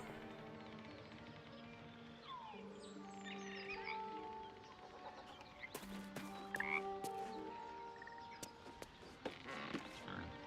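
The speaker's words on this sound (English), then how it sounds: "Adult frog." Frog croaking in the video game Baldur's Gate III, repeated croaks over steady ambient game music with occasional bird chirps and a few sharper clicks later on.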